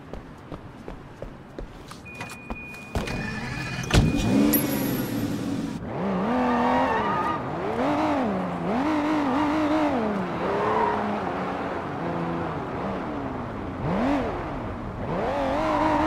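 Engine of a car driven in the Triad Warrior video game, a steady droning motor with rising and falling revs that starts after a few faint footstep-like taps and runs loud to the end.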